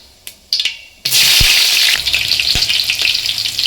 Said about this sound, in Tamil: இப்போ பச்சை மிளகாய் சேர்த்துக்கலாம்.